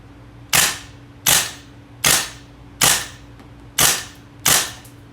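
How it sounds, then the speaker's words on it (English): A GHK MK18 MOD1 gas blowback airsoft rifle fires six sharp, evenly spaced shots, each a loud close crack with a short metallic decay, over a faint steady background hum. "Now we're just going to fire a few shots on semi, switch over to fully automatic, and see if she locks open when the magazine is empty."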